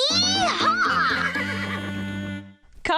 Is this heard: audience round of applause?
no